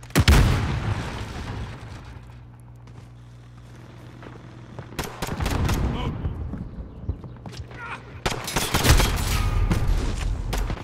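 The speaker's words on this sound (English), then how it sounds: "Throwing stun grenade." Several hard blasts of a stun grenade going off in a video game shooter, with heavy gunfire bursts between them and a loud crack near the end.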